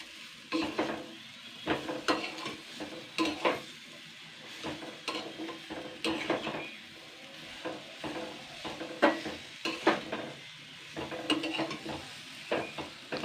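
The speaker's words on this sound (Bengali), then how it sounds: "এটাকে আমি দিয়ে সুন্দর করে হালকা নাড়াচাড়া করে নেবো" Shredded mango pickle with spices being stirred in a pan with the heat off, repeated scraping and clinking strokes over a faint residual sizzle, close and irregular with no talk.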